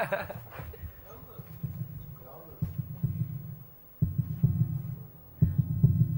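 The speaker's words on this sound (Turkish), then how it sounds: "Kalp atışını durdurun. Kalp atışı dursun." On a Turkish TV show a heartbeat sound effect pulses as a low, repeated double thump, throbbing steadily through a tense pause while hosts speak in the background.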